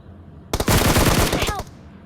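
A sudden loud burst of rapid automatic gunfire in PUBG Mobile, roughly a dozen close shots fired in about a second before cutting off.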